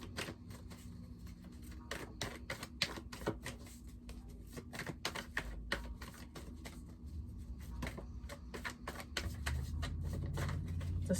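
Tarot cards are shuffled and pulled by hand, giving a rapid, close run of crisp riffling clicks and flutters over a steady low hum, with no talking.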